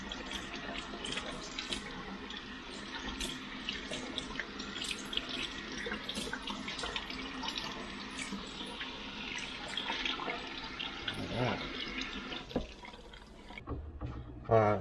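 Tap water runs steadily into a sink while a cured pork belly is rinsed of curing salt, giving continuous close splashing and trickling with shifting bursts as the meat is handled.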